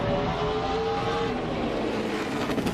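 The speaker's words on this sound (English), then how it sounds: "You heard the engine revving, and you heard the rear tires hopping on and off the racetrack." A NASCAR race car's engine revs hard at close range during practice, a loud continuous roar with shifting pitch and rough, uneven pulsing as the rear tires hop on and off the track surface.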